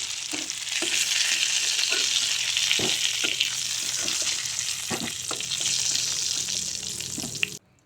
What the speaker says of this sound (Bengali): দিয়ে দেব হলুদ গুঁড়া আর সামান্য লবণ দিয়ে আলু ভেজে নেব।